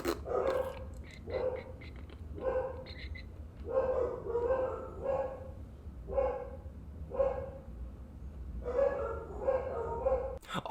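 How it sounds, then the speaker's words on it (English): Dogs bark over and over in short, fairly regular bursts, moderately loud and nearby, with no pauses longer than a second or two. "My dogs are barking."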